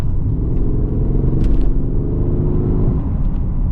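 A Mercedes ML63 AMG Performance SUV's engine rumbles loud and close, a deep continuous growl with a brief rise in revs midway and no talk.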